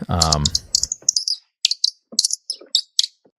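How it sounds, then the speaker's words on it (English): Small birds chirp in quick, bright bursts outdoors by a brewery, several short calls scattered across the moment, following a voice at the start. "Goddamn birds."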